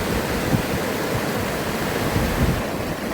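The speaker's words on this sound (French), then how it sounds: "je voulais m'arrêter vers ce petit torrent là" A small mountain torrent in the Hautes-Alpes rushes steadily with a dense, continuous wash of water noise. It is close and fairly loud, with no voices over it.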